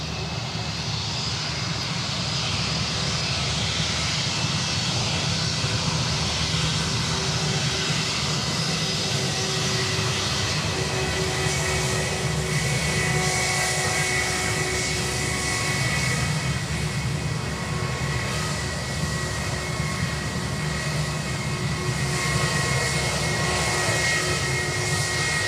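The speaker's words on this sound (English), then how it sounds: "let's quickly catch this 320" Airbus A320 airliner at Sydney Airport, a steady, continuous engine roar holding at a sustained level with a broad rumble and whine, no talk over it.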